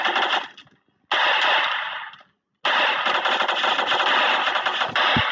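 Automatic gunfire in the Free Fire video game rattles in three loud, rapid bursts, the first short and the last long and sustained, separated by brief silences.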